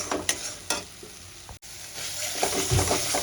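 Ginger, garlic and green chili paste sautés in a pan for curried egg and potato: a steady sizzle with irregular scraping stirs, a brief pause in the middle, then louder frying that builds toward the end.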